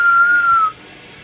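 A voice imitates the whistle of strong wind outdoors: one steady, clear whistled tone that holds and sags a little for about seven tenths of a second, then cuts off and leaves quiet background.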